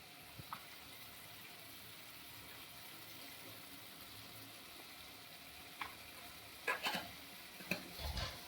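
Crab curry masala is stirred in a pan over a faint steady sizzle, with a few scraping clunks of the spoon near the end, quiet and close, with no talking.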